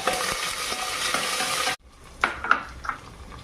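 Onion and whole spices frying in a pan for drumstick pulao, a dense sizzle with stirring scrapes that cuts off abruptly, followed by quieter sizzling and a few sharp clinks of a utensil against the pan.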